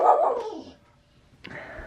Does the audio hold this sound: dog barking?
yes